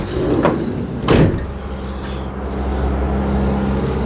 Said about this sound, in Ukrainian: Одна здвижна двері.